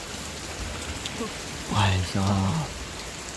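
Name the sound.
heavy rain at night during a thunderstorm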